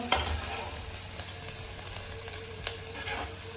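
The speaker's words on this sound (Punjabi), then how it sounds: "ਪਹਿਲਾਂ ਆਪਾਂ ਅਦਰਕ ਨੂੰ ਥੋੜਾ ਜਿਹਾ ਫਰਾਈ ਕਰ ਲੈਣਾ" Ginger frying in oil for a Punjabi kadhi, a steady low sizzle with faint stirring clicks close by, fairly quiet and without talk.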